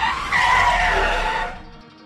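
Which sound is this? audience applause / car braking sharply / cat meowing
car braking sharply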